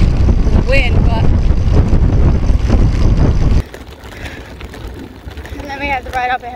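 Wind buffeting the microphone while riding a bicycle, a loud steady roar that drops off partway through, with people talking over it.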